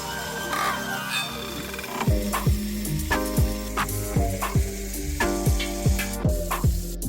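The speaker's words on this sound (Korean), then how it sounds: "살짝 튀겨줘요." Flounder dusted in frying mix crackles as it lightly fries in hot oil in a pan, a steady sizzle broken by a regular series of sharp clinks and sweeping scrapes close by.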